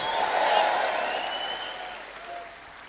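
An audience at a leadership talk in Papua New Guinea claps together, a broad wash of applause that swells early, then gradually thins and fades, with faint voices calling out beneath it.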